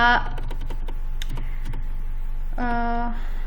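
Keys clatter on a computer keyboard as code is typed, a quick burst of clicks followed by a few scattered taps, close and fairly clear, with a voice at the start and end.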